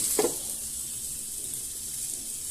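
Cheesy paneer tacos sizzle on a hot tawa, a steady close frying hiss with a brief sharper crackle at the start and no talking.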